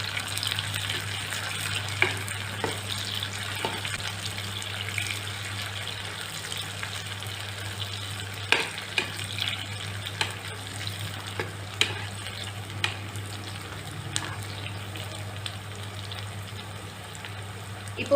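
Chili and other ingredients for a sweet and sour egg dish fry in a pan under a low, continuous sizzle, with occasional clicks and knocks of a utensil stirring the mix.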